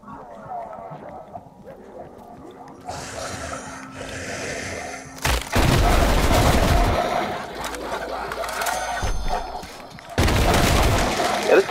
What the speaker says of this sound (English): this gun's kind of a cheat code because it shoots explosive bolts